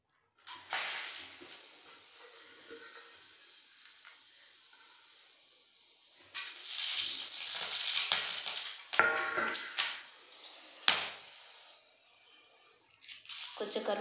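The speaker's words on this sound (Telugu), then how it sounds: "ముందుగా స్టవ్ మీద బాండి పెట్టి ఆయిల్ వేసి వేడైన తర్వాత మసాలా దినుసులు వేసి" Whole spices sizzle and crackle as they hit hot oil in a pan (a bandi), giving steady hissing frying noise with louder bursts and sputters partway through.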